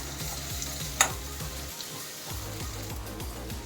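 Onions frying in a pan for a mango and jaggery curry, with a continuous close sizzle and bubbling and one brief sharp clink of a utensil near the start.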